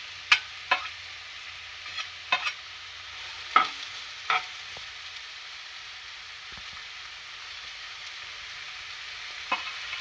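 Two small onions fry quietly in oil in a pan with a faint steady sizzle, broken by a few sharp clicks and scrapes of a spatula stirring near the start and middle.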